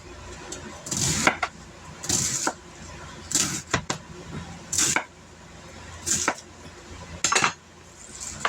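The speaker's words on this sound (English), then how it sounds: "I'm gonna cut it in center, down the center, just like that, and then chop it up" A knife chops food on a cutting board at home in sharp, irregular knocks, about eight close clacks spread across the stretch with quiet gaps between them and no talk.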